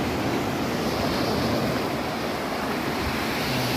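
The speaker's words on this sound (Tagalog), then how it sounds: "Tingnan nyo. Dagat." Sea surf rolling in at Al Aqah Beach in Fujairah, a loud continuous wash of breaking waves with wind rumble against the microphone and no voices.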